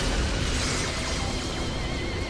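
Stardust Cannon blasts and explosions in the Earth Defense Force 6 video game, a dense, continuous roar of bursts and booms with crackling debris filling the whole stretch at steady loudness.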